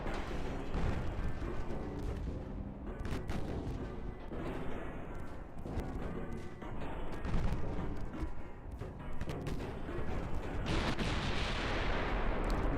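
Naval gunfire and shell hits in the warship game Ultimate Admiral Dreadnought, a dense, continuous roar of cannon blasts and explosions that layer over one another without a break, loud throughout.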